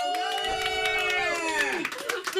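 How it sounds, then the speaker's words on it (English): A comedy club crowd claps and cheers for Nichols while sustained musical tones play over the applause, which grows brisker and more broken toward the end. "let's give Nichols a round of applause."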